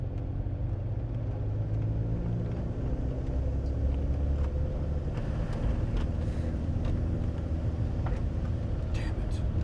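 Car engine running in second gear with a suspected shift linkage or clutch fault, a steady low rumble throughout with a faint voice murmuring underneath.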